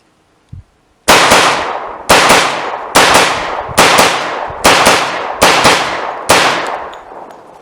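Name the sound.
10mm Glock pistol firing with Kriss Vector magazine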